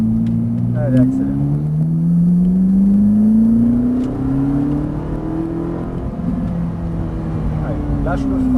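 A car on a circuit accelerates steadily, its engine note climbing smoothly in pitch, then easing and dropping as it brakes before building again, heard from inside with occasional faint voice underneath.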